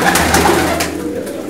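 Flying pigeons kept for pigeon racing coo in a low, throaty, continuous burble, close and fairly loud, with no voices over them.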